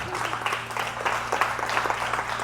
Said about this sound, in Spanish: si le vas a dar un aplauso al Señor